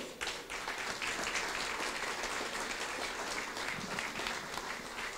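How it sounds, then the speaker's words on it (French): Steady, sustained applause from an audience at a company's 40th anniversary ceremony as the Belgian ambassador is welcomed, dense clapping filling the room throughout at moderate distance. "ça méritera également un tonnerre d'applaudissements, mesdames et messieurs"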